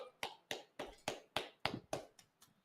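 Hands clapping at a class, about nine distinct, fairly sharp claps in a steady rhythm, moderately close and alone without talk.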